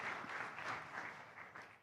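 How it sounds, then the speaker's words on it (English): Audience applause at an air and space power forum, faint steady clapping from a distant crowd with a soft rhythmic patter throughout. "Let's give him a big round of applause"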